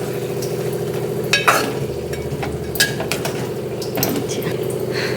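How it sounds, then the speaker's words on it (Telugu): Spiced brinjal curry is gently stirred in a pan over a steady low simmering sizzle, with a few soft scrapes of the spoon against the pan rising briefly above the continuous bubbling. "మెల్లగా కలపండి, బాగా చిందరవందరగా కలపకూడదు."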